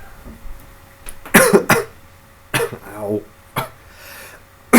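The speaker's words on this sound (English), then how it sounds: "I'm gonna die from coughing" A man coughs in a few harsh, separate bursts, with short exclamations between them, close up during a casual live stream.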